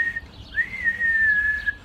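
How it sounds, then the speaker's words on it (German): A single person whistles a short, clear, high tune on a theatre stage, a brief rising note followed by a longer wavering held tone, close and alone. "taucht plötzlich Bruno wieder auf mit einem Pfeifen"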